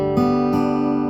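Slack key guitar in Taropatch open G tuning (DGDGBD), two quick strums letting the open strings ring together in a bright, sustained chord, close and clear with no talking.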